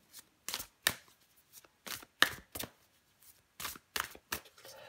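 Tarot cards being shuffled and drawn, several crisp riffling bursts separated by short pauses, close and fairly quiet.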